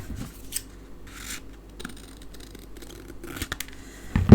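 Scissors trim a small strip of card stock during card making, giving a few soft, close snipping and rubbing sounds with quiet handling noise between them and a louder rustle at the end.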